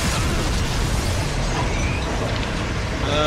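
Decompression blast from a hull breach in the game Dead Space 2: a loud, dense roaring rush of air that fills the whole moment without letup, broad and sustained rather than a single bang.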